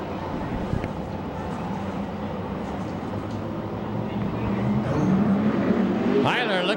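USAC Ford Focus midget race cars circle before the green flag, a continuous engine drone that grows louder near the end, with an announcer talking over it.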